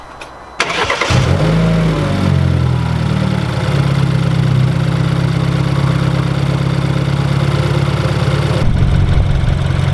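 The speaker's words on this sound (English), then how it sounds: "Now we're gonna turn on the car, let it idle for a bit, and then we'll give it a little some rev." A BMW F30 with the N26 engine and an Injen aftermarket intake cranks over and fires, then settles into a steady, close idle with a constant low drone, no talking.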